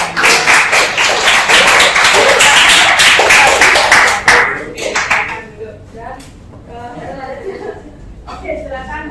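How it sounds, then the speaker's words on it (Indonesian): Hands clap together in a classroom, a dense burst of applause lasting about four seconds before it thins out, with voices and light chatter following. "Oke, tepuk tangan dulu."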